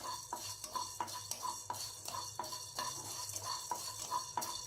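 Herbs are dry-roasted on a low flame, stirred in a pan with a steady rhythm of scraping, rattling strokes about twice a second, close and fairly quiet, with a faint sizzle beneath.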